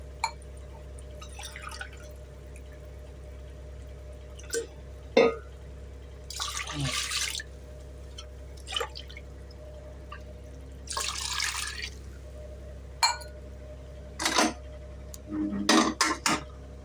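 Water rinsing a pressure cooker in a kitchen sink while making mutton biryani: irregular splashes and pours, a few metallic clinks and drips spaced across the stretch, over a steady low hum, with no talk.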